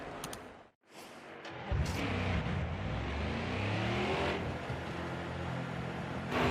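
A NASCAR stock car engine in the NASCAR Heat 4 game during practice laps at Texas, revving loudly and rising through gears after a brief drop to silence, with sustained close engine roar throughout.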